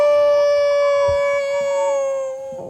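A voice imitates a werewolf howling at the moon: one long, loud, sustained tonal howl that slowly drops in pitch and fades at the end, heard alone and close.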